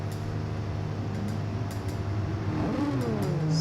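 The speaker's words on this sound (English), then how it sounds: "this Mazda just sounds phenomenal" A Mazda race car engine roars steadily around the Circuit de Barcelona-Catalunya during an endurance race, a sustained loud drone with rising and shifting tones as it revs.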